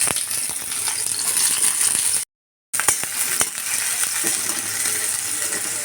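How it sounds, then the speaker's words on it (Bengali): Chopped onion sizzling in hot oil in a pan, cooking for shol fish paturi, a steady close crackling hiss that cuts out for a moment and then resumes. "তো তেলটা মোটামুটি গরম হয়ে গেছে। এ পর্যায়ে আমরা পেঁয়াজ কুচি দিয়ে দিলাম।"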